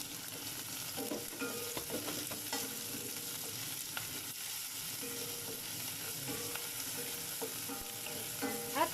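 Tomatoes and ginger sauté in a pan with a steady, close sizzle, while a utensil scrapes and stirs through it at irregular moments and no voice is heard.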